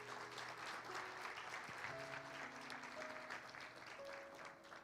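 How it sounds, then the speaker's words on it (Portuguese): A church congregation applauds steadily for several seconds, a broad continuous clapping wash with faint sustained tones, likely music or a held voice, running underneath. "Você pode aplaudir o Senhor?"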